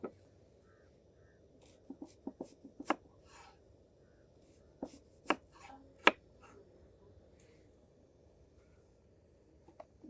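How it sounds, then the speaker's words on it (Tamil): A knife chops vegetables on a board for a fish veg roll. The strokes come in light clusters, faint and close, with quiet pauses between the bursts. "அதுக்கு தேவையான வெஜிடபிள்ஸை கட் பண்ணிக்கலாம்."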